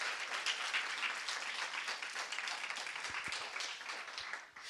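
An audience claps together, a steady dense patter of many hands heard from a short distance, fading slightly at the end.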